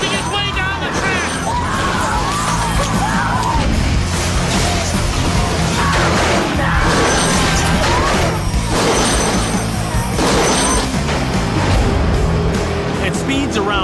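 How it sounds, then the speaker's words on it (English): A multi-car pileup during a stock car race at about 80 mph in Waterford, Connecticut, with a car somersaulting down the track: loud, continuous roar of engines and crashing impacts over crowd noise throughout, with a voice talking. "Suddenly, an accident triggers a multi-car pileup."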